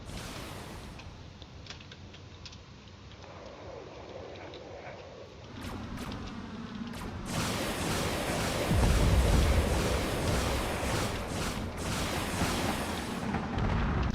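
Shots from fighter ships in a space combat game, with scattered sharp bursts that give way to a dense, loud barrage of blasts and deep rumbling booms, building in intensity toward the end.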